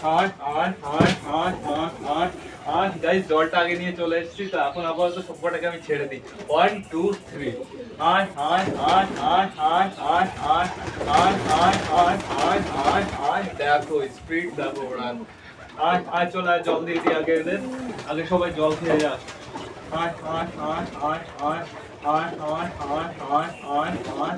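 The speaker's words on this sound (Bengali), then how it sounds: "চলো বেশি লেট না করে সবকটা পায়রাকে আমরা খেতে দিয়ে দিই" Domestic pigeons coo around feeding time, their soft calls mixed under near-continuous close talk and repeated calling by a person.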